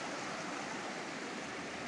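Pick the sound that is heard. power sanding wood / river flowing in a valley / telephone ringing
river flowing in a valley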